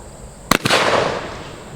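Shotgun firing a low-recoil double-aught buckshot load at 15 yards, one sharp loud blast followed by a quick second crack and a fading echoing tail.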